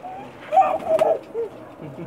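Pakistani breeder pigeons cooing nearby in a short burst of soft, throaty coos, with faint background noise around them.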